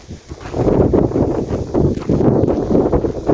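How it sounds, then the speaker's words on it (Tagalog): Strong wind in Greece buffets the microphone in a constant low roar, loud and steady throughout with no voices. "Today ay napaka hangin, sobra."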